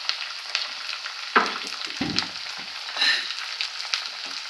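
Shallots and onions frying with grated coconut in oil for beef ularthu, a steady close sizzle with occasional stirring scrapes and clatter of a spoon in the pan.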